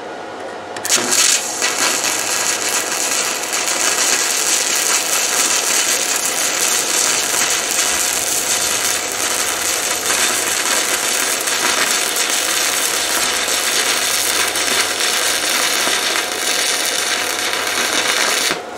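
Stick welding with a Vevor 130 amp inverter welder, a loud continuous crackling and hissing arc that starts abruptly and sizzles steadily for most of the clip before cutting off.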